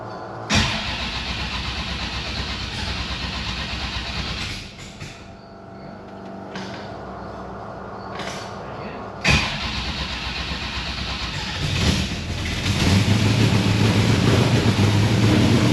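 A 572 big-block engine in a 1955 Chevrolet Bel Air cranks and starts, settling into a loud close rumbling idle, cutting out and restarting partway through before running steadily with rising revs at the end.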